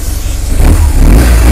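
A 2009 BMW R1200GS boxer twin on its standard exhaust revs up close and loud, its low throbbing growl swelling from a steady idle into a heavier, sustained rev.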